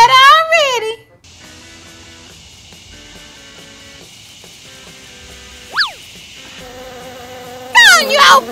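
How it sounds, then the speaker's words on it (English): A cartoon bee in an animated children's story gives a steady, close electronic-sounding buzz with one quick rising swoop, and animated voices speak at the start and end. "Go on, you old bee."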